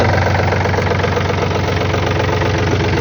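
A Yanmar F230 tractor engine of 23 horsepower idles steadily and close by, giving an even, continuous rumble with a light knocking rhythm and no voices.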